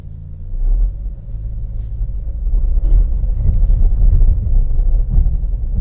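A 2010 Mercedes-Benz GLK 350 with an ABS and traction control fault rolls along, with a steady low engine and road rumble heard from inside the cabin, building slightly as the drive goes on.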